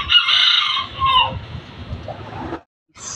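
A rooster crows loudly and nearby, its call trailing off into a few softer clucks before cutting off.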